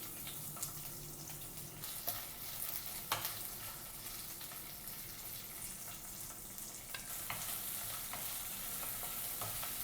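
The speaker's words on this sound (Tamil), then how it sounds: "நறுக்கி வச்சுருக்கிற வெங்காயத்தை சேர்த்துக்கலாம்." Steady crackling sizzle of chopped onions frying in hot oil for white peas kurma, with occasional clinks and stirring noises, close by and continuous, no voices.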